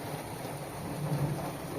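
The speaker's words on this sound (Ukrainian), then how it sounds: "а в нас на вулиці гроза" Steady rain falls outdoors during a thunderstorm, a dense continuous wash of noise with a low rumble of thunder swelling briefly near the middle.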